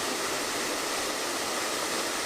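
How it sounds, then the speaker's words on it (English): Dry Falls, a small roadside waterfall on Highway 64 near Franklin, pours in a steady, dense hiss of falling water heard close and alone, unchanging throughout. "This is just a gorgeous little waterfall right here"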